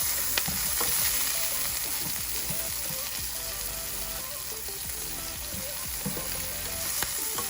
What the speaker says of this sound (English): add in the curry leaves kind of in the beginning so that it gets like the fragrance out of it and it kind of sputters